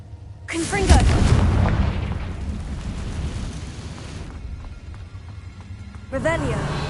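A Confringo fire spell blasts in a witch-themed video game, a loud booming burst followed by a rumbling tail, with speech over the game sounds and a second sharp burst near the end.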